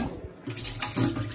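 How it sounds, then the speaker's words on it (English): Water gushing from a newly installed ceramic disc tap opened with a quarter turn, a close, steady rushing stream that starts abruptly and runs at full flow, with no voices. "Let's turn the water on so we can see."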